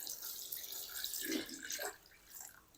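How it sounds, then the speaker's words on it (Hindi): Tap water runs into a pan of cut potatoes, a soft splashing trickle that swells and fades, faint and close with no speech. "तो आलूओं को ना हम शामिल कर देंगे एक पैन में और अब हम इसमें शामिल कर देंगे पानी"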